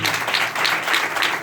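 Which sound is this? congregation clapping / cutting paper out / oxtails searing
congregation clapping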